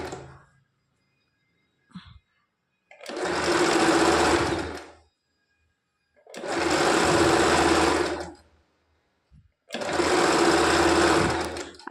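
A sewing machine stitches a blouse hem in three loud, steady runs of several seconds each, with brief pauses and small clicks between them and no talk.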